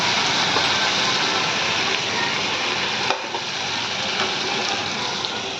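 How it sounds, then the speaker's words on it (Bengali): Fried spice mix goes into a pot of khichuri, setting off a loud, steady hiss and sizzle that fills the scene, with a small clunk partway through and no voices. "এই মশলাটাকে এবার আমি দিয়ে দেবো খিচুড়ির মধ্যে।"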